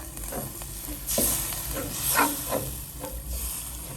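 Thai curry paste is stir-fried in a pan over moderate heat, giving a steady close hiss and sizzle with soft scraping stirs breaking through in short bursts every half second or so.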